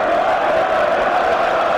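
West Ham football supporters packed into a boxing arena for a James Degale bout, their massed voices rising in a steady, loud communal roar that could be the start of a song.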